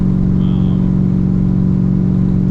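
A freshly built big-block Chevrolet Caprice V8 holds a loud, deep, steady roar at full throttle, heard close up, constant for the whole stretch with no talking.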